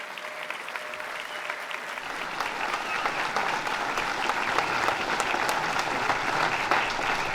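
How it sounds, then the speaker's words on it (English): A crowd at a Milwaukee Police merit awards ceremony claps in a dense, steady round of applause that swells slightly and keeps going to the end. "Let's give them another round of applause."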